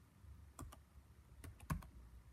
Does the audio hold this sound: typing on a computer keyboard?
yes